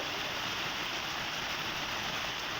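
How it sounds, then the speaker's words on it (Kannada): Heavy monsoon rain in Kodagu district falls as a dense, steady hiss with no pauses or talk, filling the whole stretch evenly at a moderate level. "ಇನ್ನು ಕೊಡಗು ಜಿಲ್ಲೆಯಲ್ಲಿ ಭಾರಿ ಮಳೆಯಾಗ್ತಾ ಇದ್ದು ಜನಜೀವನ ಅಸ್ತವ್ಯಸ್ತವಾಗಿದೆ"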